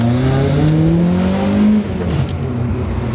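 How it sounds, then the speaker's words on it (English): Honda Prelude engine accelerating hard from inside the car, a loud sustained rising drone with climbing harmonics that drops off suddenly near the end as revs fall, with no talking. "we're gonna take the prelude for a VTEC spin"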